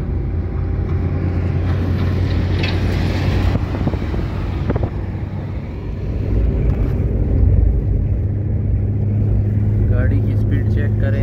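Car cruising along a road in Balochistan at speed, heard from inside as a loud steady low engine and road rumble with wind buffeting, while people talk over it.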